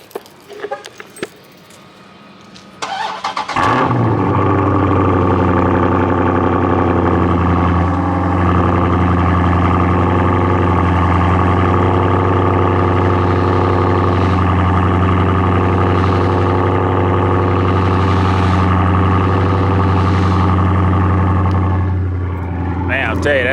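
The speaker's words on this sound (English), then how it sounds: "give y'all a little cold start to start off the new year" A modified M4 car engine cold-starts with a sharp crank and catch, then settles into a loud, steady, deep idle that rumbles on close-up for about twenty seconds before cutting off.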